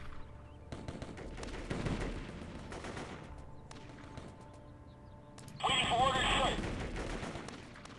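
Bursts of automatic gunfire in the war video game Warfare, repeated rattling shots with a heavier, louder blast near the end, all over a low ambient game backdrop.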